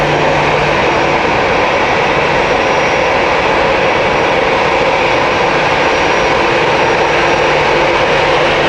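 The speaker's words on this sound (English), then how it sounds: "Airbus aircraft is doing a few tests in the air first" An Airbus airliner flying at Hamburg Airport gives off a loud, continuous jet engine roar that stays constant and close throughout, with no voices.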